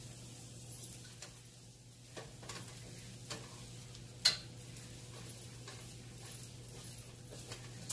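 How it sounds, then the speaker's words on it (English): Flour roux cooks in a pot while a spoon stirs it, giving a soft steady sizzle with occasional light scrapes and taps against the pot, quiet and close, with a constant low hum beneath. "Let that cook a little bit, just so we can get that flour taste out."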